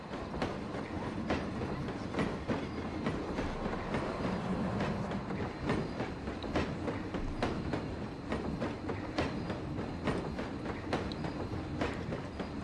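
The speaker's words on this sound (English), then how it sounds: "I like the building the train went through right there." Train rolling through a theme park in the Planet Coaster console game, a continuous rumbling rail roar with regular clickety-clack wheel beats over the track joints, steady and fairly loud with no voices.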